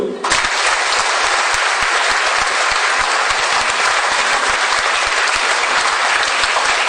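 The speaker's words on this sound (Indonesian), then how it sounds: "tepuk tangan dulu Ibu." An audience at an Indonesian motivational seminar breaks into applause, a dense, loud, sustained wash of clapping that starts abruptly and holds evenly to the end.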